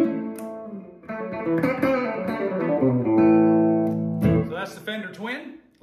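An electric guitar fitted with a Glaser double bender plays country-style notes through a reverb effect, with sustained ringing tones and a voice near the end.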